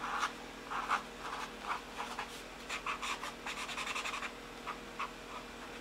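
Posca paint marker writing on paper in a pocket journal, heard as a string of short, close scratchy strokes in bursts with brief pauses between them, moderately quiet and without speech.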